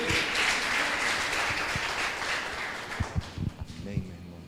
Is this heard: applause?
yes